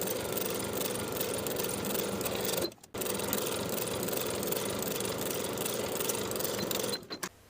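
A sewing machine runs steadily, stitching the crotch curve seam of linen paperbag-waist shorts, a close continuous motor hum with a brief pause near the middle and a stop at the end.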